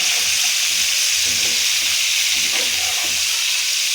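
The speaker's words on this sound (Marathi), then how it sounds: "पनीर फुल गॅसवरतीच फ्राय करून घ्यायचं." Paneer frying over a full gas flame gives a steady loud sizzle and hiss throughout, with faint scraping underneath and no clear speech.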